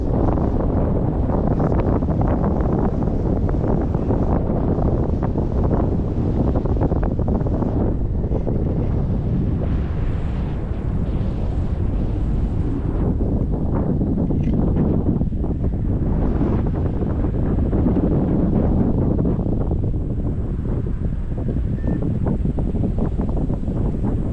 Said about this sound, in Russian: Потому что, видишь, ветер